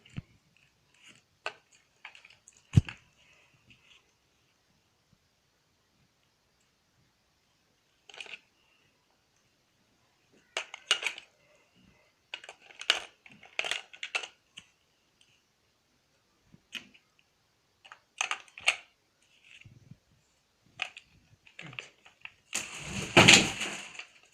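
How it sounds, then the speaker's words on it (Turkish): Four AA batteries are pushed into the battery compartment of a mini sewing machine, sparse plastic clicks and taps up close, ending with a louder snap and rattle as the cover is slid shut. "pillerimizi yerleştiriyoruz"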